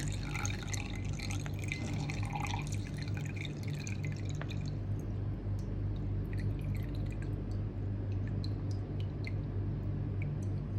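Thin, watery drink from a bitten-open pack in Thailand trickles and drips steadily into a container, a soft liquid splatter over low background hum with no talking.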